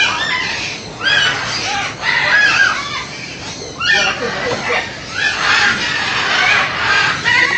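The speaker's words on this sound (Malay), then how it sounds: "Burung ni ya. Macam-macam ada." Various birds call in lush tropical greenery on Koh Samui, Thailand, with a rooster crowing and clucking nearby; loud, overlapping calls come in bursts across the whole stretch.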